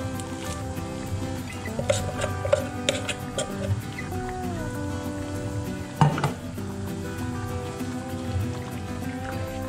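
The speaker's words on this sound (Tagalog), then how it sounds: "hahalu-haluin lang po natin hanggang mag-dry po ang ating bibingka" Glutinous rice for bibingka being stirred in a cooking pot as it boils, a steady bubbling, sizzling bed with scraping and clinking of the spoon against the pot throughout, one sharper knock near the middle.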